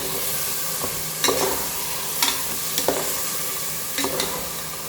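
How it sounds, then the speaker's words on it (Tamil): Ground tomato, green chili and onion sautéing in a pan for chicken biryani give a steady sizzle, broken by several sharp scrapes and clinks of the stirring spoon, close and with no voices. "இப்போது இதில் போட்டு வதக்கிக்கலாம்."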